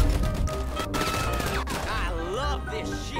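Rapid bursts of pistol gunfire in GTA 5, fairly loud and dense over a cluttered game soundtrack, with a voice talking partway through.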